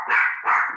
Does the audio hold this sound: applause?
no